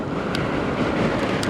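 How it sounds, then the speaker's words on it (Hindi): Strong, steady wind roaring across the microphone beside a river in Keran, Azad Kashmir, with a broad rushing noise and a few brief gusty bursts. "बहुत तेज हवा चल रही है।"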